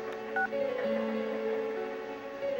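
Telephone dialing tones play in the Persona 4 video game: a series of short, clear keypad beeps with pauses between them over quiet background music.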